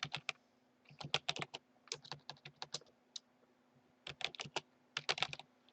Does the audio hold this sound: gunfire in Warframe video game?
no